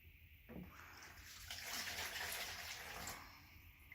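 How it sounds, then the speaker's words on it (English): Water poured into a mixing bowl for pancake batter in a home kitchen, a steady gushing splash that swells for a few seconds and then tapers off, heard alone and close. "Pour the water."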